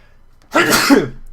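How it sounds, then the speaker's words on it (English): A single abrupt sneeze from a man during a gaming commentary session, a short, loud burst alone after a moment of quiet. "I'm gonna sneeze."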